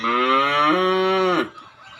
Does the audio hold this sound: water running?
no